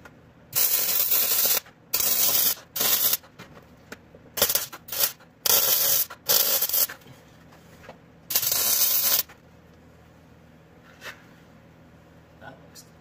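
Welding on a homemade beer launcher or cube feeder chute: several loud, crackling, hissing bursts of a few seconds each, with short gaps between, then the arc stops and only a faint low hum remains.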